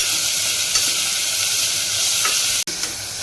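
Shallots with salt frying in a pan, a bright continuous sizzle up close with a few soft stirring scrapes and a brief sharp knock near the end, no voices.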